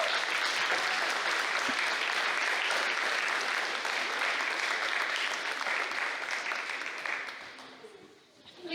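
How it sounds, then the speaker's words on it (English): A school invention convention audience claps for honorable-mention winners, loud and sustained, then thins and fades out near the end, with a voice briefly audible underneath. "Let's give them all a big round of applause."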